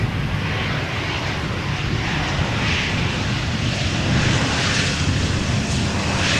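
An Embraer jet arrives at Amsterdam Schiphol with a continuous, even roar of engine noise at moderate loudness, holding steady throughout with no voices.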